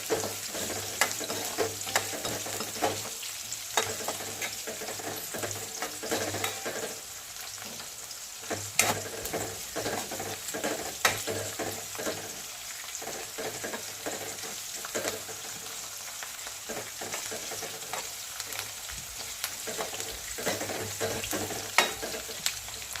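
Onion and garlic fry steadily in a pan for aloo matar pulao, a dense continuous sizzle with scattered crackles and occasional scrapes of stirring, close and moderately loud, no voices.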